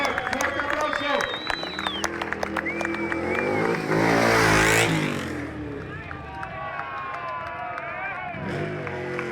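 Spectators at a 2011 motorcycle event in Almaraz clap and cheer in a broad wash of crowd noise, with an announcer talking over it and the roar swelling midway before easing off.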